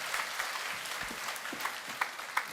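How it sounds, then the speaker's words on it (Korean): Church congregation applauding performers in a sermon skit, a brief burst of many hands clapping at once with a few louder individual claps standing out, fairly close and with no talk over it. "우리 CSI 요원들에게 다시 한번 뜨거운 박수로 여러분 축복해 주시기 바랍니다"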